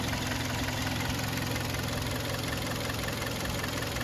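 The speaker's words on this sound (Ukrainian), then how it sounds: "Двигун працює ідеально." A 2012 Hyundai ix35 2.0 petrol engine idles steadily with a constant low rumble and a slight ticking, close by, with no voices.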